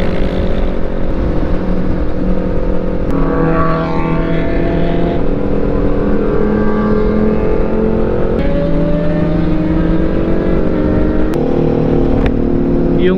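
A Yamaha R6 sport motorcycle revs loudly on the road while other big bikes are also running nearby. The engine note is sustained and close, and it rises in sharp bursts of throttle.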